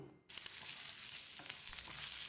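Green chilies and tamarind sauté over medium heat for mint chutney, a sudden hiss of frying that starts after a brief quiet moment and continues as a steady, fairly quiet sizzle with a few light stirring sounds.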